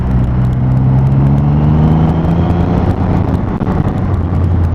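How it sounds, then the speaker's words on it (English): A 2020 Triumph Rocket 3 R motorcycle pulls away under steady, low-rev acceleration, a deep continuous engine drone with rising tones, loud and close over constant wind rush. "keep them revs really slow, keep the revs low and steady, and just whoosh, away it goes"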